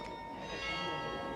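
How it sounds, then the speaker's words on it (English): Bells ringing out a tune, a dense sustained wash of overlapping tones heard faintly and at a distance, steady throughout the short stretch. "the bells play and they're playing my song"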